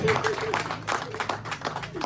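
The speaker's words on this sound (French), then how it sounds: "Applaudissez pour elle, s'il vous plaît." Audience clapping steadily throughout at a live stage performance, a dense, moderately loud patter of applause with voices mixed in.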